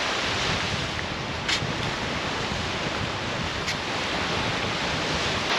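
Ocean surf washes onto a winter beach full of rip currents and cuts, a dense, continuous roar mixed with heavy wind buffeting the microphone, loud and steady throughout with no voices.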